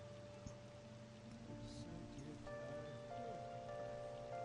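Rain falls steadily in the Persona 5 video game, a soft continuous patter beneath sustained background music tones, fairly quiet and with no talk.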